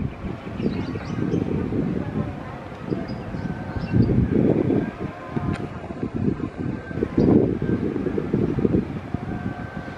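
A CC206 locomotive running through Pondok Jati station on its way back to the depot: a steady low rumble and mechanical roar that swells twice as it passes, with wind noise over the microphone and a faint high squeal.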